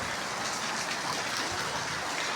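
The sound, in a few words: rain falling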